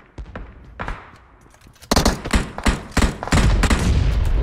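Gunfire in PUBG Mobile, heavy-weapons mode: scattered single shots early on, then dense, loud bursts of rapid fire from about the two-second mark to the end, with occasional faint voices.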